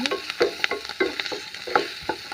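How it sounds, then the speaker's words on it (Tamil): Garlic, onion, four dried chillies and a little tamarind sautéing for hot chutney, with a spoon scraping and tapping the pan in a quick, regular rhythm over a soft sizzle, close and clear. "பூண்டு வெங்காயமும் வதங்கிட்டு இருக்குது அதோடவே சேர்த்து கொஞ்சோண்டு நாலு பட்டை மிளகா சிறிதளவு புளி சேர்த்துக்கிட்டோம் சேர்த்துட்டு வதக்கிக்கலாம்"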